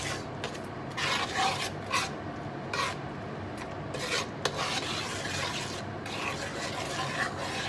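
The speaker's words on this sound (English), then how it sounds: "So you mix it all together. This is for arroz con gandules." Ingredients, including tomato sauce, being stirred together for arroz con gandules (yellow rice with pigeon peas): a steady, close rasping scrape of a spoon against a pot, with brighter repeated strokes and no talk.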